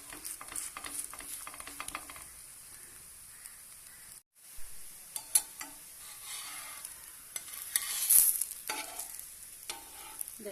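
A pea-stuffed paratha frying in a hot pan gives a soft steady sizzle and hiss, quiet and close, broken by a brief silence and a few light scraping clicks.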